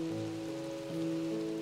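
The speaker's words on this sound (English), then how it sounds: "It sounds like it's raining." Minecraft rain hisses softly and evenly in the game, a faint wash of falling drops lying under steady sustained musical tones.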